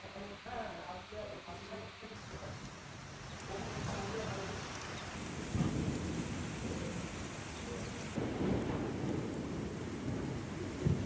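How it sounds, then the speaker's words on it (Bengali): Steady rain pours throughout, with low rolling rumbles of thunder swelling midway and again near the end; faint voices murmur underneath. "থেমে থেমে বৃষ্টি হয়, তবে তা মাত্র কয়েক মিনিট স্থায়ী হয়"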